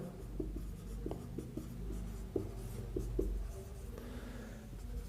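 Chalk or marker tapping and scratching on a classroom board in a biology lecture, a run of short sharp strokes at steady close range over low room hum, with no talking.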